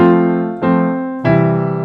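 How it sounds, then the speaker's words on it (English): Three strummed chords ring out one after another, each struck cleanly and left to sustain, loud and close with no voices. "The basic chords will sound like this"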